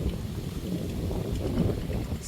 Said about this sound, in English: I know it's windy today, very windy and dusty.